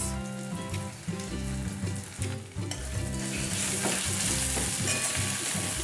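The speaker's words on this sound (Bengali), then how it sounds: "এবারে ভালো করে আমি মশলাটাকে কষিয়ে নেব।" Ground turmeric, cumin and coriander fry loudly in a pan for kochur loti bhuna, with a dense crackling sizzle and repeated scraping stirs throughout.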